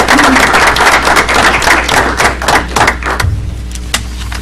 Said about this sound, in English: Give Scouting a round of applause.